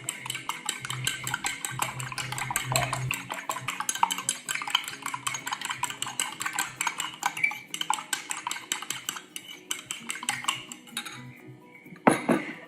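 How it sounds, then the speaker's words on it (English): A dressing seasoned with coriander is whisked in a bowl, giving rapid continuous metallic clinking and scraping of whisk against the bowl, close and steady, ending with a louder clank. "whisk that all up"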